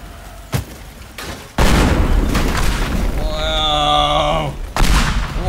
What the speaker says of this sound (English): I should probably just blow up this house.